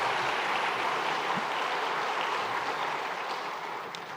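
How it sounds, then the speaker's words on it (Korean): Church congregation giving warm welcoming applause for newcomers during a Sunday service, a steady wash of many hands clapping at moderate distance that slowly fades toward the end. "우리 환영의 박수로 맞이하도록 하겠습니다"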